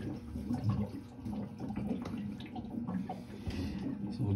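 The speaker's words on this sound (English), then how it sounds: "And it's gonna let water down into the bilge." Water drains from an opened valve on a Raritan 1700 12-gallon marine water heater into the bilge of a 1984 Chris-Craft Catalina 381, making a faint, continuous trickling and gurgling with a few splashes.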